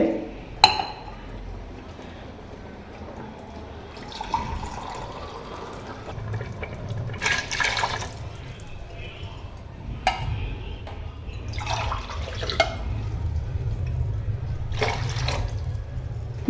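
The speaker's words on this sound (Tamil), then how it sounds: "ரெண்டே கால் டம்ளர் தண்ணி ஊற்றிக்கலாம் சூப்போடு கலந்து" Water mixed with mutton soup is poured into a pot for mutton paya biryani, giving gentle, intermittent splashing and liquid pouring with a few clinks against the pot, moderately close.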